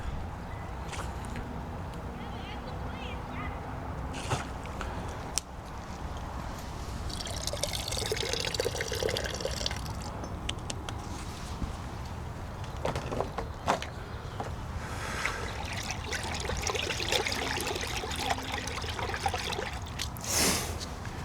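Liquid car wash soap, a two-ounce measure, pours and trickles into a wash bucket, a soft watery splash and dribble running steadily through the scene, with a person's voice talking over it at times.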